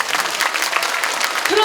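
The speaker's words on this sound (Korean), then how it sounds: "박수." A brief burst of audience applause at a Democratic Party lecture event, dense clapping from a crowd with a speaker's voice overlapping near the end.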